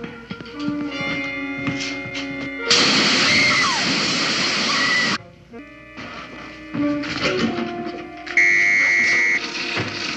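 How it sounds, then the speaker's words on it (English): An alarm goes off on a 1960s Batman TV set during a Mr. Freeze scene, loud electronic buzzing and ringing in bursts that start and stop, mixed with other studio sound effects. "alarm!"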